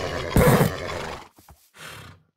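A horse in a video game whinnies loudly once, a sharp burst that trails off, followed by a few short fainter snorts.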